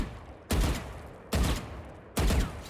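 Three loud, sharp gunshot bursts from the Valorant shooter game, evenly spaced about a second apart, each with a short ringing tail, with no talking.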